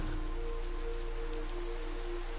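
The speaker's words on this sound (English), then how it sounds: "I want to skip this rain." Steady rain in the Minecraft video game, a continuous even patter of drops on surfaces filling the whole short stretch at a constant level with no voices.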